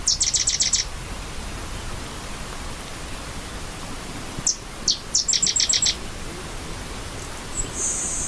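Several bird species sing in a marsh, with short bright chirping phrases in bursts at the start, middle and end over a steady hiss of background noise, no voices.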